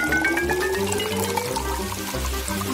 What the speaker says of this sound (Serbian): Šta da sipam ovdje? Neka to bude Sprite.